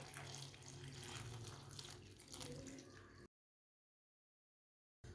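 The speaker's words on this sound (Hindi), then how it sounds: "अब इसमें 1 गिलास पानी डाल लेंगे।" Running water from a tap pours steadily for about three seconds as a glass of water is added to a cooking pot with halved tomatoes for a baingan recipe, then cuts off abruptly into silence before a brief return.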